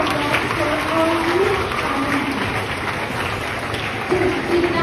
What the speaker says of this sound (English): Give a huge round of applause for all